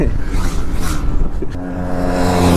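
Cars revving hard at a street drag race, a loud, close engine roar that rises into a steady droning pitch, with rushing wind noise throughout.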